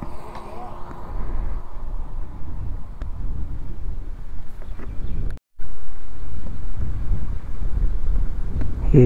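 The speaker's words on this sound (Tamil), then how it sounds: "காற்று வேறு அடிக்குது." Steady outdoor wind rumbles across the microphone throughout while refuelling a KTM Duke 250 motorcycle with petrol, with a brief dropout midway, and faint talking in the background.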